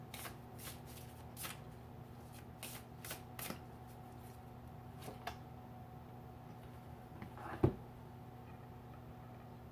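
Tarot cards are shuffled in quick riffling bursts at close range in a quiet room, followed by a card being pulled with a soft snap near the end.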